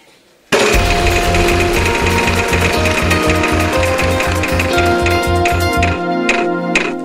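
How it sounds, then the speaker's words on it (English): A simulated game show prize wheel is spun and clicks rapidly and evenly past its pegs, the loud ticking continuing for several seconds before slowing toward a stop. "it's time for me to give the wheel the final spin"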